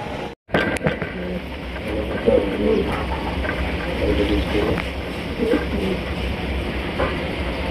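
Soft pigeon cooing at a pigeon sale, mixed with people talking and a steady rumbling background, after a brief silent gap at the start.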